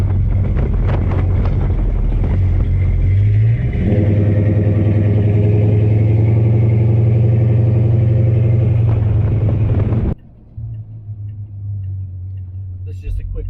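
A 1966 Chrysler Newport two-door cruises around a neighborhood, its engine rumbling low and loud with a rising note as it accelerates, wind noise over the microphone, then easing to a quieter idle-like rumble near the end.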